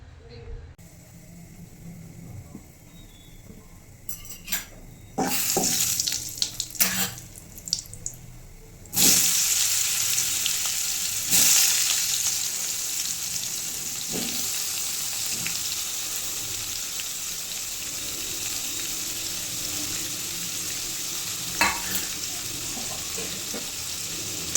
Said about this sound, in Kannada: ಸಣ್ಣದಾಗಿ ಹೆಚ್ಕೊಂಡಿರೋ ಪನ್ನೀರನ್ನ ಹಾಕಿ ಫ್ರೈ ಮಾಡಬೇಕು